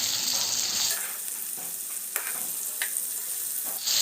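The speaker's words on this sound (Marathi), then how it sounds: "कमी गॅस फ्लेमवर 2-3 मिनिट त्याला परतून घेऊया।" Raw banana pieces with turmeric and salt frying in a pan, a steady hiss of sizzling with occasional soft scrapes as they are stirred, close and continuous with no voices.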